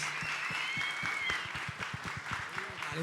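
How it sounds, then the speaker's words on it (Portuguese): Steady applause from a group, crisp claps running throughout with a faint voice underneath. "Uma salva de palmas para os nossos convidados, pessoal."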